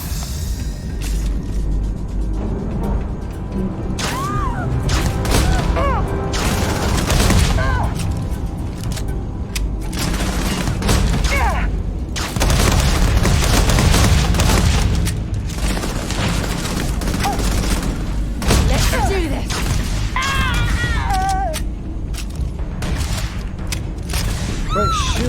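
Heavy sci-fi gunfire rattles through a Starfield firefight, dense bursts and booms running almost continuously at close range, with short lulls and a voice talking over the shooting.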